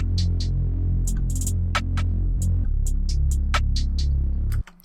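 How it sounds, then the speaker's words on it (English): Stripped-down R&B beat with only drums and hi-hats, heavy low kick or 808 thumps under crisp ticking hats and snaps, steady groove for nearly five seconds before cutting out, no melody or voices. "I'll mute the melodic elements of the beat and just have the drums going"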